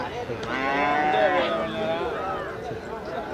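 Native cattle moo loudly and close at a livestock market in Thiruvonam, Tamil Nadu, with one long drawn-out call over a busy crowd background.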